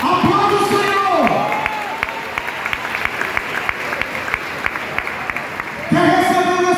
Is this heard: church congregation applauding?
yes